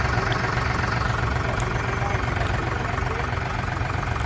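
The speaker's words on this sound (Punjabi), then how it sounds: "ਉਹ ਬਾਈ ਵਾਹ ਸੁਣੋ ਟਰੈਕਟਰ ਦੀ" A tractor engine runs steadily close by, a constant low diesel throb with a faint rhythmic knock.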